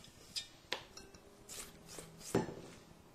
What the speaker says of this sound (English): Now I'll spread the batter into the loaf pan.